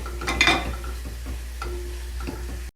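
Spices including garlic and onion powder, paprika, turmeric and cumin are stirred in a pot, with a spoon scraping and clinking over a faint sizzle and low background hum, close and moderate.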